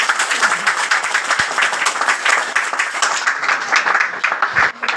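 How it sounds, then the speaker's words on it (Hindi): A crowd at a business seminar bursts into dense, sustained applause, many hands clapping close and loud for the full stretch, with a few faint voices mixed underneath. "एक बार आप अपने लिए ताली बजाइए।"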